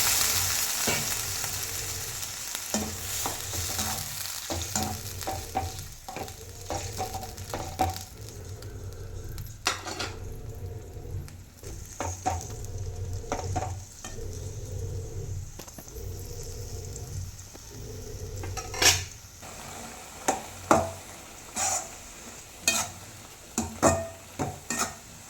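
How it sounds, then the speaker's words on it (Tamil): Goat blood poriyal, a Madurai-style dish, sizzles steadily in a pan while a spoon scrapes and stirs it in repeated strokes, with sharper clicks of the utensil against the pan growing busier toward the end. "நல்லா கிளறி கொடுத்துட்டே இருங்க. இல்லைன்னா அடி பிடிக்கிற மாதிரி இருக்கும்."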